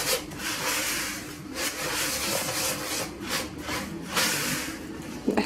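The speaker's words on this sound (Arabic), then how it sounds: "الاحسن نستخدموا ايدينا، غادي ندوزوها بين ايدينا بحال هكا، نديرو كسكسو كنحكوها بين ايدينا" Butter being rubbed into dough between the palms, a dry, gritty friction sound like couscous being worked by hand, rising in repeated scraping strokes, close and fairly steady, with no talking.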